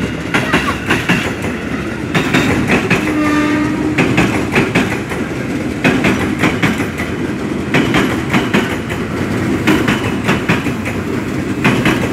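A train rolls in, loud and close, with continuous rumbling and clickety-clack of wheels on rails, a brief horn tone partway through, and faint voices underneath.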